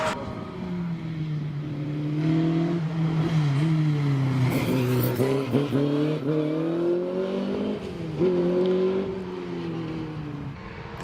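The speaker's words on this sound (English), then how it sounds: "Chris Bentley Jones in the BT35 Brabham. Here he goes." Brabham BT35 Formula 3 race car with a 1600 engine climbing a hillclimb course, its engine howling steadily and rising in pitch through repeated gear changes, loud and close for several seconds before easing off slightly.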